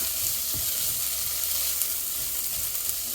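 Carrots and peas fry in a pan with a dense, continuous sizzle, with occasional stirring scrapes underneath, close and loud throughout.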